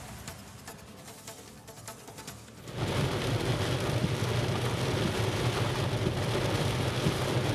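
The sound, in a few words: heavy rain falling in Bangalore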